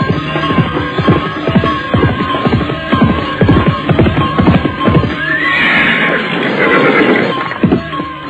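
Horses whinny and neigh as riders set off in a radio drama, over a busy clatter of hooves and rustling, then a long loud neigh rises near the end.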